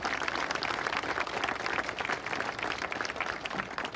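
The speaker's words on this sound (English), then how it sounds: "So if we could give them a round of applause" An audience at an elementary school opening and ribbon-cutting ceremony applauds with steady, dense clapping from many hands, continuous and fairly even for the whole stretch, with no talk over it.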